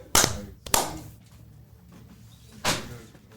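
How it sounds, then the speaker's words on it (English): Three sharp, separate claps ring out in a garden supply store, two close together at the start and a third after a pause, each loud and crisp with a short decay and quiet between. "Can I get a clap?"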